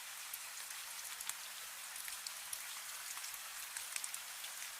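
Soft, steady rainfall with scattered crisp droplet ticks, quiet and even throughout, no voices.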